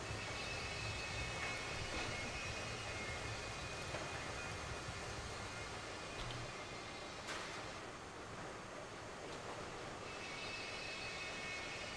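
Freight train in the railroad simulation game Railroads Online, a steady broadband rumble of the moving train running continuously for the whole stretch, with a few faint clanks on top and no talking.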